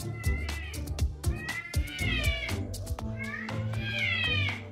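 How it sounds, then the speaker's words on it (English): A cat meows several times in drawn-out, wavering cries, close and clear, with people talking and laughing around it and a few sharp knocks in between. "Cat meow."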